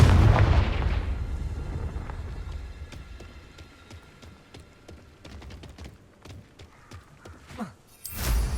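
A Confringo fire spell in Hogwarts Legacy blasts with a loud, deep boom at the start, then decays into scattered crackles and faint popping debris.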